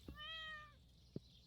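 A single cute cat meow from the Stardew Valley farming game, a clear rising-and-falling tone lasting under a second, followed by a soft thud, quiet and with no talking.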